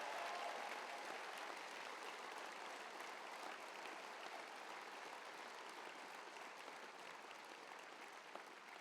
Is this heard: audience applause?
yes